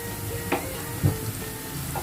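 Ginger and garlic fry in hot oil for a Filipino spicy shrimp bagoong, a soft steady sizzle with a few light stirring clicks, close and quiet, with no talk.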